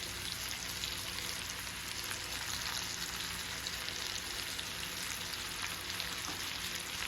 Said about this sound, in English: what we are going to do next is we're going to add our onions.